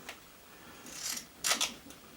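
Duct tape handled and pressed across a wire while a light system is fitted to an RC4WD Earth Digger 360L excavator model: a few short, close, sticky rasps and crackles, the loudest pair near the end, with no talk.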